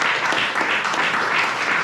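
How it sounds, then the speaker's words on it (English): A short burst of audience applause at a comedy show, steady and fairly loud, filling the room evenly for a couple of seconds. "Let me get another round of applause, please."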